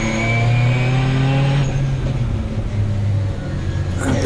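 Racing cars, including a fluorescent green BMW, roar past through Graham Hill Bend at Brands Hatch, their engines loud and close with layered revving that drops in pitch as they pass, followed by another approaching car.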